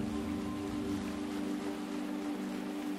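Rain in the Cassette Beasts video game, a soft continuous hiss of falling drops under a steady low hum of game ambience, faint and unbroken, with no voices.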